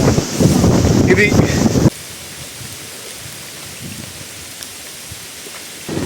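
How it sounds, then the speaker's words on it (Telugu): Roaring monsoon waterfall near Mahabaleshwar temple, a dense broadband rush that is loud for the first two seconds, then drops to a softer steady wash with wind buffeting the microphone. "ఓ మై గాడ్, మొత్తం వాటర్ ఫాల్."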